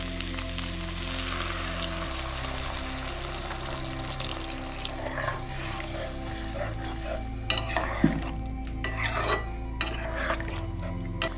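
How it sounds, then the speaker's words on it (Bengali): Close stirring scrapes and soft knocks sound as paneer pieces are mixed in a sizzling pan, over a constant low hum. The clatter grows busier toward the end, and no voice is heard. "পনিরগুলো এরকম করে মিশিয়ে নেব।"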